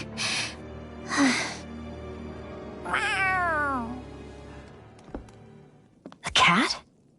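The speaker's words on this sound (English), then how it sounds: "A cat? Where'd it come from?" A cat in the Tales of Arise video game meows several times, with short bursts and one long falling meow, close and clear, then a thud and a final sharp cry.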